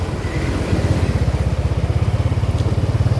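A motorbike engine on a street in Cambodia, a loud close low putter with fast regular pulses that steadies into an even throb, over faint street noise.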